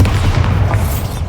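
A Bombarda spell explosion in Hogwarts Legacy, a short, loud, deep boom with a rumbling low end that fades within about a second.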